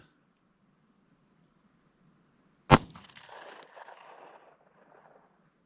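A single sharp, loud pistol shot from a Glock 43 fitted with a PSA Micro Dagger conversion cracks out after near silence, followed by a short ringing echo that fades over about two seconds.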